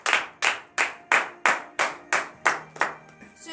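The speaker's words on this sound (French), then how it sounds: "Donnez de vives acclamations à l'Éternel." During a morning prayer service in Benin, a congregation claps in praise in unison: about nine sharp, evenly spaced claps, each ringing briefly, fading slightly toward the end.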